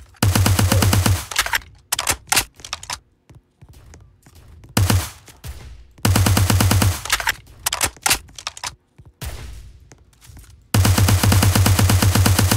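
Rapid automatic gunfire in a video game, loud sustained bursts broken by gaps and shorter volleys, close and dominant with no voices.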